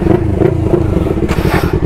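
A Yamaha R3 sportbike engine runs close by with a rough, pulsing low rumble and a slight rise in revs, loud and steady throughout.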